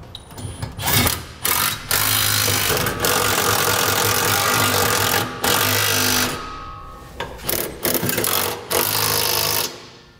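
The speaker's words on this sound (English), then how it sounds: "Using a 3/4 inch socket, we can begin tightening up all of our hardware that secures our center section to our cross rails." A power impact tool with a 3/4 inch socket tightens the bolts on a gooseneck trailer hitch under a 2016 Chevrolet Silverado 2500, giving repeated loud rattling bursts of several seconds each, separated by short pauses.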